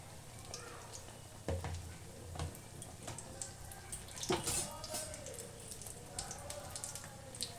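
Eggplant fritters (beguni) bubble and sizzle in hot oil in a small wok, making a soft, continuous crackle broken by sharper pops and a few louder spatters.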